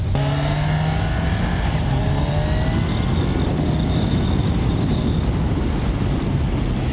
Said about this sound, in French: J'ouvre tellement peu pour avoir cette accélération là